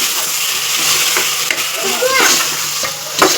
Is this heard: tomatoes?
yes